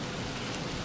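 Steady rain in the video game Don't Starve, an even, dense hiss of falling drops with no breaks, moderately loud and constant.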